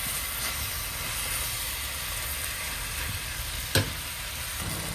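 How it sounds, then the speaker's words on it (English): Beef and vegetables stir-fry in a pan with chili and oyster sauce, a steady close sizzle with stirring scrapes and one sharp clank near the end, no talking. "And then quickly stir fry."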